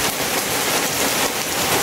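Morning rain in Lebanon pours steadily, a loud dense hiss of drops on surfaces with no talking.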